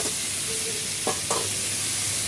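Curry of cauliflower, potato and eggplant sizzles steadily in a pan, a loud continuous frying hiss broken by a couple of brief stirring scrapes.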